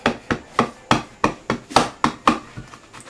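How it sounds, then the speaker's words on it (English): A rubber stamp is rubbed and tapped against a Crumb Cake ink pad while card-making, giving about ten quick, evenly spaced close dull taps, each with a short scuffing tail. "I'm just going to rub and tap that on."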